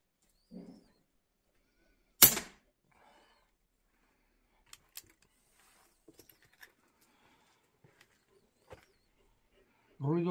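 A single sharp crack of a Hatsan Tac Boss PCP air rifle shot rings out in a quiet space during a precision test, with faint clicks and handling noises and brief voice fragments around it.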